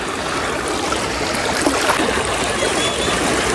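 Fast-flowing floodwater rushing through a village makes a constant broad hiss and gurgle, close and steady for the whole stretch with no voices clearly standing out.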